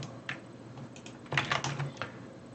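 Computer mouse and keyboard clicks during web coding work: a burst of quick, light plastic clicks and taps close by, clustered in the middle of the clip.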